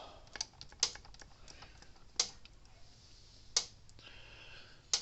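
An older Gallagher electric fence charger clicks and pulses with a steady, faint ticking, several crisp clicks at regular intervals over quiet background hiss, with no voices.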